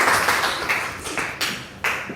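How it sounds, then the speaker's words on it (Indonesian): An audience at an education training session in Surakarta claps together in a short burst, sharp hand claps close by coming in a few uneven waves that fade and swell again. "tepuk tangan untuk Mas Riza ya"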